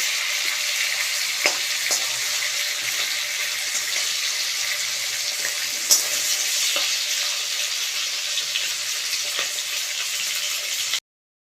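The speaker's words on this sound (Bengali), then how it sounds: "মাছ ভাজা আমার হয়ে গেছে" Fish frying in hot oil in a home kitchen makes a constant close sizzle, with a few sharper pops and light scrapes scattered through it and no one talking, then it stops abruptly near the end.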